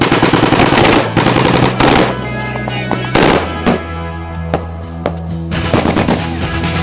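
Machine gun and rifle fire in combat during Op Herrick 6 in Afghanistan in 2007, with loud close bursts and single shots in an irregular rhythm and sharp cracks echoing between volleys.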